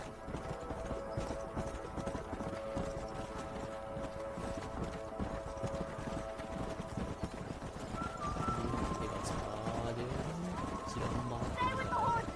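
Horses galloping in the Red Dead Redemption video game, with steady clip-clop hoofbeats running throughout. Background music and ambient layers sit alongside, and the sound grows a little busier toward the end.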